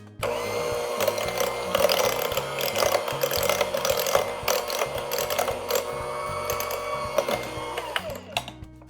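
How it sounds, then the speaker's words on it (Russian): An electric mixer whips cream cheese at medium speed for a Raffaello coconut cake, a steady mechanical whirring and grinding that runs loud and close throughout, with slight surges, and no talk. "И такой на средней скорости начинаем взбивать наш творожный сыр"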